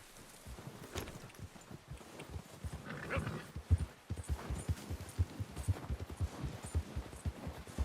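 Steady clip-clop of horse hooves trotting on hard ground in the video game Red Dead Redemption 2, fairly close, with faint background ambience and a brief animal sound.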